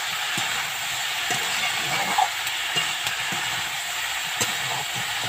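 Pui (Malabar spinach) greens frying in a pan for a Bengali pui mitchuri dish, with a steady broadband sizzle and occasional soft scrapes of a spatula stirring, close and continuous with no talk.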